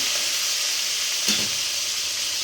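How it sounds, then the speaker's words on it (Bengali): Fish pieces frying in hot oil in a kadai give a steady, close, dense sizzle throughout, with a brief stir or clink around the middle. "এগুলো আগে ভাজার জন্য দিয়ে দিলাম কড়াতে"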